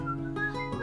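Cartoon creature, the Bristly Whistler, gives a short steady whistle that shifts pitch slightly midway, faint and alone over a soft background.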